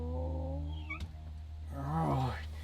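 A cat lets out a high, squeaky meow up close, a short rising-and-falling cry near the end of the clip, with tonal background sound underneath.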